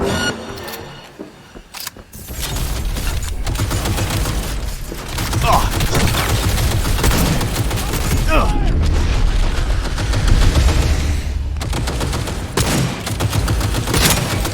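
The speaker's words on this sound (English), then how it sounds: "Firing at close range!" Sustained gunfire in the video game Cyberpunk 2077, loud dense volleys and rapid shots that run almost without a break, with mechanical clanks and a heavy low rumble underneath.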